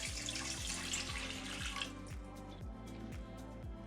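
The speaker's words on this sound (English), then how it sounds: "what we're gonna do is pour in that 16 ounces of water" Water is poured into a pot for chicha morada, a Peruvian purple corn drink, making a steady, close splashing stream under rhythmic low background music, with no talking.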